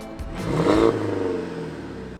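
A BMW E92 in bad shape starts up and revs, its mid-pitched engine swelling to a loud peak and then settling into a steady, slightly uneven idle, heard up close with no talking.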